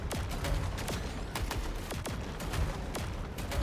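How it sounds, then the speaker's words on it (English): Repeated sharp blasts and gunfire crackle in a continuous game firefight from Saros, with several distinct impacts spread through the clip under a dense, loud battle backdrop. "Now, does that work with the grenades?"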